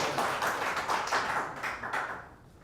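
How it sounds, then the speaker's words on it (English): An audience applauds a speaker, a dense wash of clapping from a crowd that fades out over a few seconds, with no talk over it. "everyone give Yuri a round of applause"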